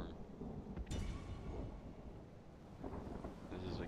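A thunderstorm rages in the strategy video game Third Age Total War: thunder rumbles with cracks under a steady wash of rain and wind, continuous and fairly faint.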